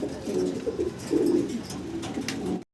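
Pigeons, among them a slightly soiled white bird, cooing close by in steady, repeated low rolling phrases with no talk over them.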